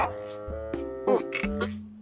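A frog croaks several times in a slow, uneven sequence, each croak deep and resonant, close by with quiet gaps between.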